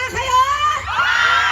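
A concert crowd at a mall performance shouts and cheers loudly, with high, overlapping screams and whoops rising across the short burst.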